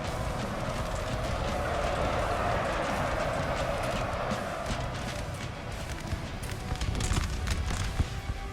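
Cavalry horses gallop across a battlefield in Napoleon: Total War, a dense, steady rumble of many hooves drumming at close range, with the busy din of battle continuing throughout.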